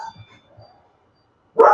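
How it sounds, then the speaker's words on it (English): A dog bursts into a loud, close bark near the end, following a quiet stretch with a few faint murmurs and soft sounds. "Mine's had barking fits all day."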